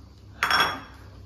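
Plates and dishes clink as they are picked up in a home kitchen while soto is cooked, a single sharp clattering knock that rings briefly and fades, with quiet background before and after.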